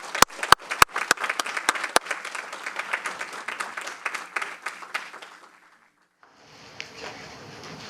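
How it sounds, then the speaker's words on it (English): Applause at a NJ Transit board meeting starts with a few loud separate claps, grows into lively clapping from a modest group, then fades out into quiet, and a soft room hum with faint background sound follows. "I would like to give a big round of applause and recognition for these gentlemen."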